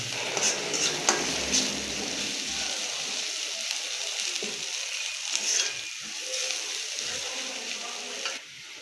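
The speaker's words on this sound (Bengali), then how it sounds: "এখন আমরা এর ভিতরে একটু পানি দিয়ে দেবো" Water is poured into a pan of fried chili and onion in a village kitchen, setting off a steady loud hiss of sizzling with stirring scrapes and metallic clinks of a utensil against the pan.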